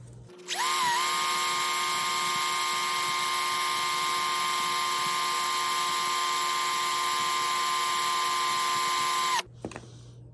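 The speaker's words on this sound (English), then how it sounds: "as we get the drill going, we're just lightly moving the sandpaper across the pip" A power drill spins a small 3D printed rank pip against 60 grit sandpaper, giving a loud, steady high whine that spins up quickly, holds nearly constant for about nine seconds, then cuts off abruptly.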